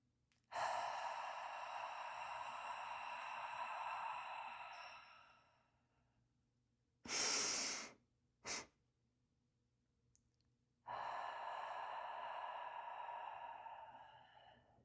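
Slow deep breathing done alone: a long, steady breath lasting several seconds, a short sharp intake, then another long breath, close and clear with no talking.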